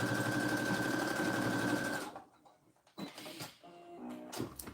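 A sewing machine stitches a fabric tissue holder, a brisk buzzing run of needle strokes for about two seconds, then stops, followed by soft clicks and handling sounds of the fabric and machine.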